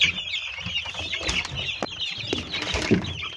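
Egg-laying hens clucking in a close, busy chorus with scattered calls and a brief flutter of wings, no voices.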